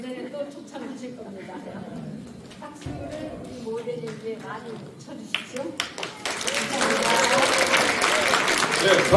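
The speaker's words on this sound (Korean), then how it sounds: "다시 한번 사라 선생님께 큰 박수 올리겠습니다." A host speaks at a classical chamber concert, then the audience breaks into warm, sustained applause that builds and fills the last few seconds.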